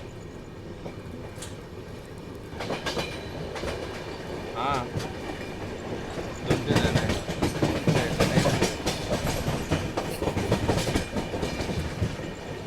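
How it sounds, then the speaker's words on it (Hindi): A locomotive-hauled train comes in on the Nagpur line at busy Bhusawal railway station, its rumble and wheel clatter swelling louder and closer. A brief voice is heard over it. "जो आप लाइट देख रहे हो ना लोकोमोटिव की, वो गाड़ी आ रही है आपका नागपुर वाली लाइन से"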